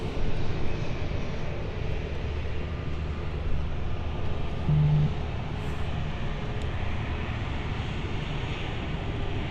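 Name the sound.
Swiss Embraer E2 airliner on the runway at London City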